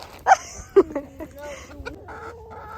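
Chickens cluck close by, a few sharp calls followed by softer, drawn-out clucks and murmurs from the flock.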